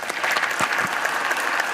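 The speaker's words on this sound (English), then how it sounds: "Senator Mitch McConnell met with applause in the United States Senate chamber" Applause in the United States Senate chamber, a dense, steady patter of many hands clapping continuously and fairly loud, heard alone without talk.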